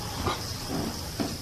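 A dog whimpering close by, a few short soft whines and nasal whimpers in a quiet indoor space, with no talking.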